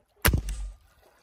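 Air rifle pellet fired into water, heard as a single sharp crack followed by a brief splashing decay, close and alone.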